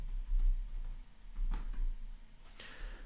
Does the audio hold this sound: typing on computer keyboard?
yes